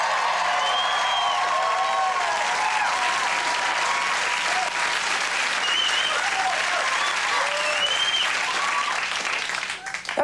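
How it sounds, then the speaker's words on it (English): A late-night television studio audience applauds in a loud, dense, continuous wash of clapping, with a few faint whoops mixed in, holding steady for about ten seconds before tapering at the end. "That applause was becoming sarcastic at some point."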